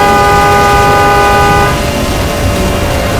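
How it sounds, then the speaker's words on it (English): A car horn sounds loudly and close in one long sustained tone lasting about a second and a half, followed by steady road and engine noise. "I heard the honk"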